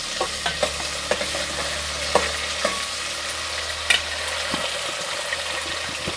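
Garlic and chopped tomato fry in a pan with a steady close sizzle, punctuated by a few sharp stirring scrapes and clicks throughout, with no talking.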